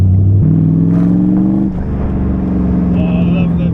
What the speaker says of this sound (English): Oh, I love them V8 noises.